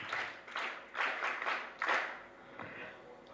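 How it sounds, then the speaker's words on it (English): An audience claps for business partners at a bank's business launch event, with several bursts of applause rising and falling in loudness, loud and close, with some voices mixed in. "please give our business partners a big round of applause"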